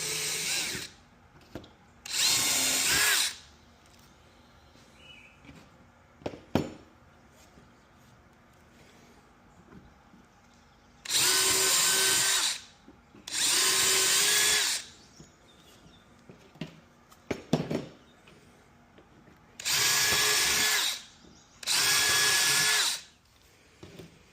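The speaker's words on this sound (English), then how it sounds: "I will just put in a small countersink" A power drill bores small countersinks for screws in a PVC replacement board for an Adirondack chair, sounding in six short loud whirring bursts of about a second or two each, separated by quiet pauses with faint background noise.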